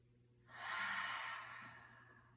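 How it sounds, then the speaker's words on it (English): A single slow, soft exhale through the mouth, breathy and close, rising and fading over about two seconds in a quiet room during a guided breathing practice. "Exhale through the mouth."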